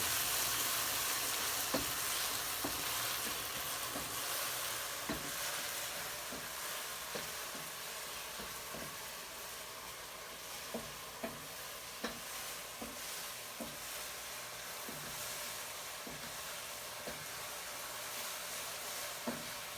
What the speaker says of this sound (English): it takes those mushrooms a little time to cook